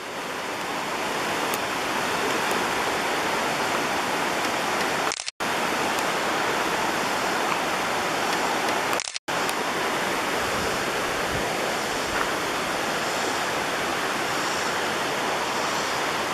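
River water rushing steadily at Sweetwater Creek, a loud continuous broadband roar heard up close, broken by two brief dropouts.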